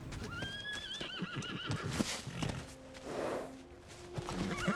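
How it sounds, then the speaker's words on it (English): A horse whinnies loudly in rising, quavering bursts over clip-clopping hooves, with more neighs and faint rustle following across a busy outdoor scene; Isildur's horse in The Rings of Power. "That's Isildur's horse, isn't it?"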